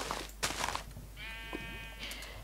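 Bleating sheep in the video game Orecraft: a quivering, buzzy bleat in the middle over a steady low game hum, with brief clicks and scuffs around it.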